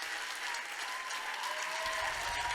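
Audience applause at a Põltsamaa Playback Show 2026 event: a steady, dense wash of clapping from a crowd lasting throughout, fairly close and even, with a slight swell near the end.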